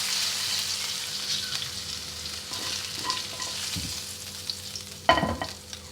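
Sautéed ingredients sizzle and fry in a pan alongside chicken for Chicken Manchurian, a soft steady crackle with occasional stirring clinks and a louder burst near the end.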